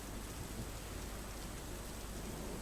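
Steady, heavy overnight rain in Limbdi, Surendranagar, Gujarat pours down with a constant dense hiss, unbroken for the whole stretch and with no voices.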